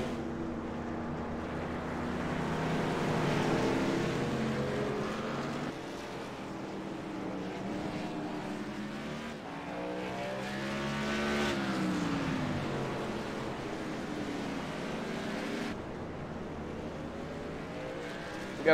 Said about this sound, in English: Ashton Crowder doing some burnouts down pit road in that 27 Virginia Tech machine there.